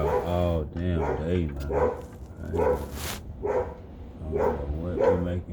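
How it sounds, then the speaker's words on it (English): A dog gives a run of loud, harmonic barks and drawn-out howling yowls near a home garage, with uneven pauses and some background noise. "That dog has an angry streak. Like, he just like barking hell."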